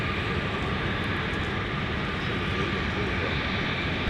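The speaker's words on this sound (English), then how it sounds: "Here we go, Alaska 555. Now arriving from Seattle, Tacoma with the One World livery." Alaska Airlines 555, a jet airliner in oneworld livery arriving from Seattle-Tacoma at snowy Minneapolis airport in winter, a loud, steady, broad engine roar that holds without a break, close by.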